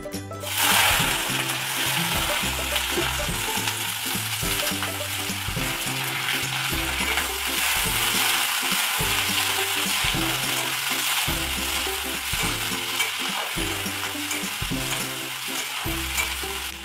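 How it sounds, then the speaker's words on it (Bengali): Long beans sizzle loudly and steadily in hot mustard oil with five-spice, a dense unbroken frying hiss running over a low repeating background pulse. "তো এবার আমরা এর মধ্যে বরবটিগুলো দিয়ে দেবো।"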